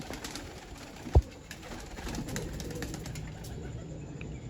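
Young Teddy pigeons kept at home coo softly against a low, steady background, with one sharp click early on.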